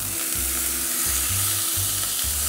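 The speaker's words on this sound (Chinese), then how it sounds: "大概用中細火煎咗大概4至5分鐘之後咧，你就可以反轉啦" Zucchini and eggplant pan-fry with pork over medium-low heat, giving a steady, close sizzle and crackle that runs unbroken, with a low hum pulsing underneath.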